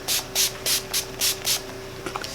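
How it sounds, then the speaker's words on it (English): A handheld face spray mists in six quick, evenly spaced hissing pumps, close to the listener, over a faint room hum, followed by a few soft handling taps. "So now I'm going to spray my face."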